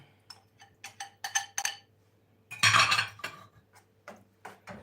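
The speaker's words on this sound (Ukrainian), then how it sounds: "Помішуємо і готується." A spoon stirs sauce in a pan, giving irregular metallic scrapes and clinks in short bursts with a louder scraping stretch in the middle, close by and alone against a low background hum.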